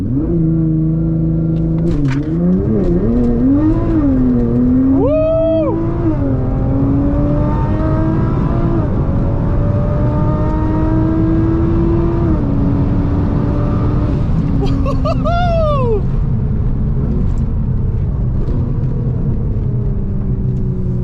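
Cars launching hard with wheelspin at a drag race at Crail Raceway, including a 1000HP VR6 RX7, a turbo VR6 Golf and an AMG A45S: loud continuous engine roar with rising and falling revs, close by, with a couple of sharp squeals partway through.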